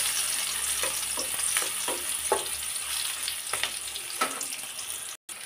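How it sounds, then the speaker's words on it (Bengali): Onions frying in a pan for a Bangladeshi slow-cooked mutton kosha, with a steady close sizzle and occasional stirring scrapes, no voices. "এখন এই পেঁয়াজটা আমি সুন্দর করে ভাজি করে নেব।"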